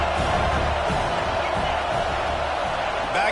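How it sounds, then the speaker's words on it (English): A home stadium crowd at an Alabama football game roars in a dense, sustained wash of cheering, loud and unbroken throughout, with a few indistinct shouts inside it. "how nice is it to have the home crowd going absolutely bananas?"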